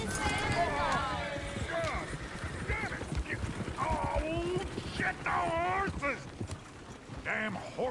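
Horse hooves clip-clop steadily in Red Dead Redemption 2 beneath ongoing voices and a horse's whinny, with talk and ambient noise throughout.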